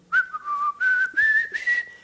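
Someone whistles a short, bright melody of a few sustained notes, clear and close, with no talking.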